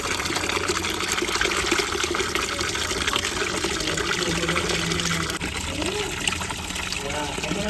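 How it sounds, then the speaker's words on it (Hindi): Raw chicken being rinsed under running water in a home kitchen, a steady gushing, splashing wash that runs throughout at close range, with people talking over it. "इधर जो है चिकन धोया जा रहा है"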